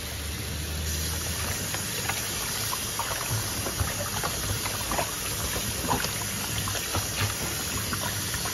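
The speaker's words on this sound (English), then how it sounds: "add some lemon inside it. And we're going to wash it." Running tap water rinses pieces of pork with lemon for Jamaican stew pork, a steady close splashing and trickling wash with small irregular spatters throughout, no talking.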